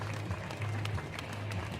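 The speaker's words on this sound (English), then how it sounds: "great to see the Bull supporters applauding off the Raiders" Supporters at a Bradford Bulls Challenge Cup rugby league match against West Wales Raiders applaud the departing visitors, a faint, distant patter of clapping spread across the stadium over a low steady rumble.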